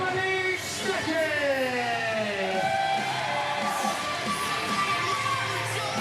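Crowd at a Continental Championship Wrestling show cheering and shouting continuously, with whoops and raised voices rising over a steady roar, while a commentator talks over the noise throughout.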